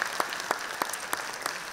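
Scattered hand claps from a small audience at a Dragobete and Mărțișor concert, coming in irregular bursts at moderate volume.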